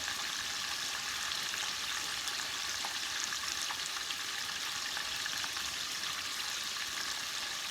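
Breaded, flour-dredged food deep fries in hot oil with a steady, even hiss and crackle, moderately quiet and continuous, with no voices over it.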